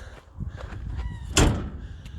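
A door is pushed shut on a farm with a single loud slam partway through, preceded by shuffling and handling noises and followed by a fading rattle.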